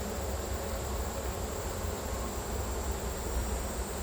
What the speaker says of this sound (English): There's a huge quantity of bees in here